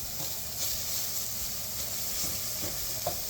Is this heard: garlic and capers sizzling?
yes